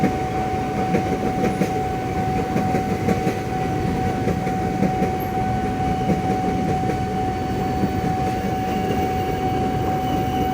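KRL commuter train running past a level crossing with a new Kyosan barrier system, a steady loud rolling rumble and rattle of wheels on rail with a constant warning-bell tone over it.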